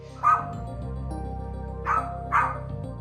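A pet dog barks three times, sharp and close, one early bark and then two more in quick succession, with a steady low hum underneath.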